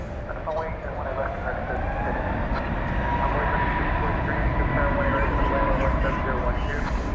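An airliner departs on a flight to Portland from DFW Airport with a broad, sustained engine roar and rumble, steady and fairly strong throughout, while people talk in the background.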